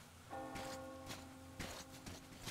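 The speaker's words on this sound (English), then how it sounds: "Do you hear that bell?" A bell tolls in the Metro Exodus video game, a resonant ringing tone that sustains and decays over steady rain-like background noise, with a few soft knocks mixed in.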